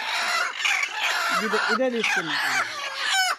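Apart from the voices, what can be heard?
hens clucking while being handled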